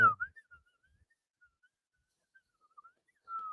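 A person whistles a soft, thin tone, first drawing breath in and then blowing out, in short broken bursts with a longer sustained note at the end, close and alone.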